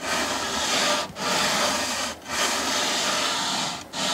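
Sandpaper scrubbing the body of a vintage Hamer bass guitar in long continuous strokes, a loud, close, rasping rub broken by three brief pauses.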